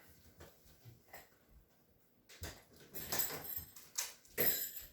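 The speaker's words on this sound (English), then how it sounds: "So I've got a dog that wants to go outside." An indoor dog whimpers and yips softly, wanting to go outside, with faint breathy whines early on, then sharper, louder bursts toward the end, close by in a quiet room.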